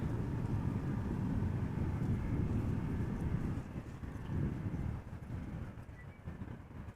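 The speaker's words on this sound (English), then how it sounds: "Airplanes coming this way." An airliner at Amsterdam Schiphol Airport gives a steady, loud low roar of jet engine noise that holds for several seconds, then eases slightly and fluctuates with some wind buffeting.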